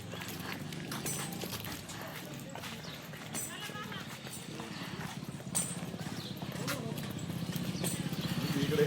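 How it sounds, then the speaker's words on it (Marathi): Hooves of buffaloes and goats clop and patter steadily as the herd walks along a village path toward grazing on a cold morning, with voices talking nearby. "म्हशी आणि बकऱ्या चाललेल्या आहेत वळायला,"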